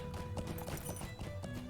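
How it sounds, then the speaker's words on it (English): Rhythmic clip-clop of a horse's hooves in Lord of the Rings Online, a steady trot of repeated hoof strikes, moderately loud, with game ambience underneath and no talking. "And this is a horse, not a pony."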